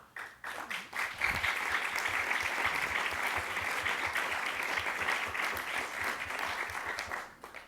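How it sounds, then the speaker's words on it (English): An audience at a mayor's proposed city budget address bursts into applause, a dense, steady wash of many clapping hands that holds at full strength for several seconds and then tapers off at the end. "It's one of the few times taxes gets a round of applause"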